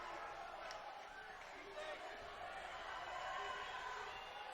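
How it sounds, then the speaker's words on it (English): A crowd at a seventh-grade boys' league championship basketball game cheers and roars in a gym, a distant wash of voices swelling over the next few seconds. "The crowd's going crazy in here."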